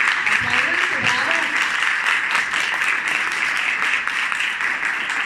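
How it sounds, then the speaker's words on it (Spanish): An audience applauds through a celebration of a long career in direct sales, steady clapping spread across the room for several seconds, with a voice speaking and cheering over it. "¡Sí, aplaudense! ¡Aplaudense, bravo!"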